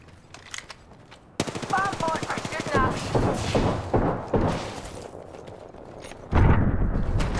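Gunfire from the Apex Legends video game, played as Lifeline, arrives in rapid automatic bursts and heavy shots. A player's voice talks over much of it.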